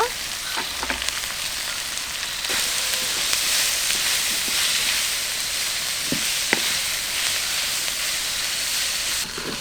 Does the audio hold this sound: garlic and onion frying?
yes